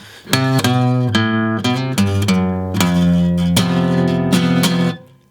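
Acoustic guitar plays the instrumental section of a song, with loud, close strummed chords and picked notes in a steady rhythm, ringing out alone before fading at the end.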